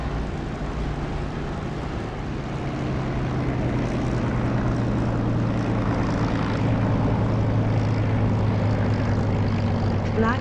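Propeller aircraft engine in the DCS flight simulator game, a steady droning hum with a strong low tone that swells louder partway through as the plane comes in on approach.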